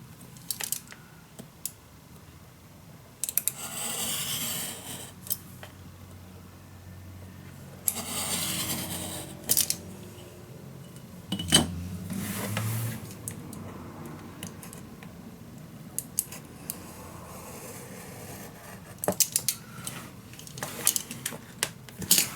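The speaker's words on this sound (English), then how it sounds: "Just taking my time to cut all the way around." Scissors snip through paper while cutting slowly around a shape for steampunk Christmas letters, giving a run of small crisp clicks and rustles spread unevenly over a long stretch, fairly close with light background noise and no talk.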